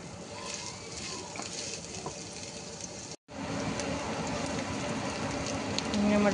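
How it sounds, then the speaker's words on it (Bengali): Chopped onions frying with garam masala in a pan, a steady close crackling sizzle that breaks off briefly partway through and resumes, with no talk. "প্রথমে গরম মশলা একটু ভাজা করে নিই, তারপরে পেঁয়াজ কুচি দিয়ে দিলাম।"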